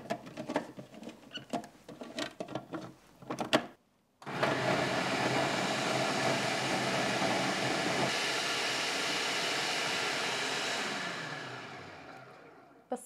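Peppers and onion with half a cup of water are ground in a blender. After some light clattering comes a steady, loud whirring roar lasting about seven seconds, which then winds down.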